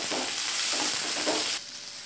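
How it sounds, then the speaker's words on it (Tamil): Onions sizzle and fry steadily in hot oil with mustard seeds and rock salt in a pan, with a few stirring surges; the sizzle stays loud and continuous, and no one speaks. "இப்போ வந்து வெங்காயத்தை போட்டுக்கிட்டு உப்பு போட்டுக்கலாம்."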